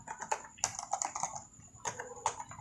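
Typing on a computer keyboard while entering data into an Excel sheet, short bursts of close, crisp key clicks separated by brief pauses.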